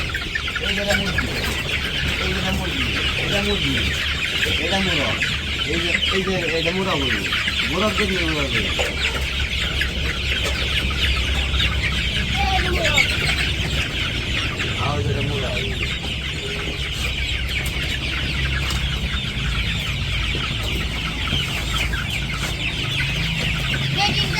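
A flock of Sonali chickens in a village yard clucks and calls in repeated, overlapping bursts over a steady background hum, close and continuous, with a voice now and then.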